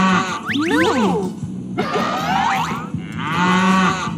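A recorded cow gives three drawn-out, loud moos one after another. The calls are close and sound alone.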